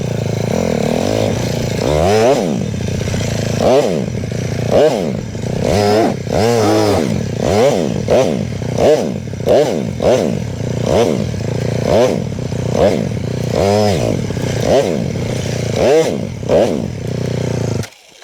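An enduro motorcycle rides a single-lane dirt track, its engine revving up and down in a steady rhythm of repeated throttle bursts with clattering from the chassis, loud and close throughout.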